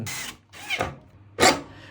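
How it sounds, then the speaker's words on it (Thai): Power drill boring a hole through a kitchen sink to mount a water filter, heard as three short separate bursts of whining, grinding drilling with brief pauses between, fairly close. "ผมชอบตรงนี้นะครับเดี๋ยวเจาะลงไปต่อสายข้างล่าง"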